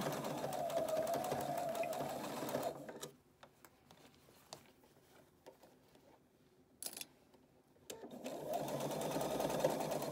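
Sewing machine back-stitching the bill of a cap, running loud and close for a few seconds, pausing through a quiet stretch with small handling clicks, then whirring again at the end.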